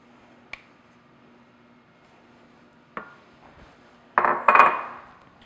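Melted chocolate being added to cheesecake batter, with an isolated clink of a utensil against a bowl, then a louder burst of scraping and clattering as it is mixed in, close and otherwise quiet with no talking.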